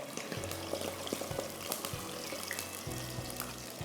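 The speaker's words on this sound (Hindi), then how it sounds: "अभी थोड़ा सा इसमें पानी डाल दो बेटा" Water is poured into chicken masala frying in a pan, a steady splashing hiss with a low rumbling bubble running underneath throughout, fairly close and with no talking.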